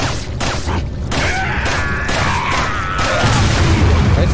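An explosion set off by a tripwire in Resident Evil 4 rumbles loud and dense, a sustained roar of debris and crackle with scattered thuds, swelling heavier and deeper toward the end.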